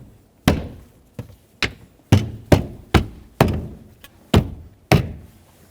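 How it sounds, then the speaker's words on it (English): Carpet push clips are pressed back into place in a Nissan Pathfinder, about ten firm thunks and snaps at irregular intervals, each sharp and close with a short decay. "Take these push clips with the carpet, snap those back in place."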